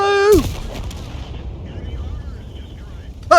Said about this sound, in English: He ammo-racked the last enemy tank and blew it to pieces